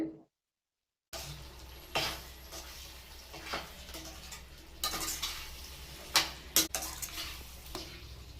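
Amla pieces are stirred into fried green chilli paste in a pan, giving quiet intermittent scrapes and clinks of a spoon over a faint background sizzle.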